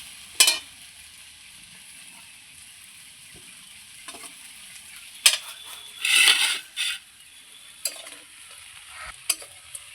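A cooking pot of ash gourd simmered with fish head is lifted off a kitchen stove, giving a few sharp metallic clanks and scrapes with quiet gaps between, close by.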